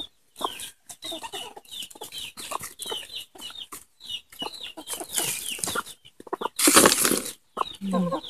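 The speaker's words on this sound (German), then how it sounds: "Und die ganzen Hühner um dich herum" Hens cluck in short repeated bursts, with a brief loud flurry of wing flapping near the end; a busy farmyard flock close by.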